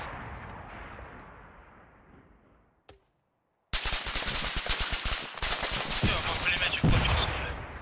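Machine gun fire in the military game Arma 3: after a fading roar and a brief silence, loud rapid bursts of automatic fire hammer away continuously with booming impacts, while voices talk over the battle.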